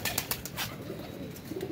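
Pigeons cooing near a small shaded shelter, soft low coos repeating over a faint background, with a few brighter chirps mixed in.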